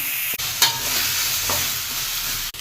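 Chopped onions and tomatoes sauté in a pan for a fish curry, giving a loud continuous sizzle broken by a couple of spoon knocks and stirring scrapes.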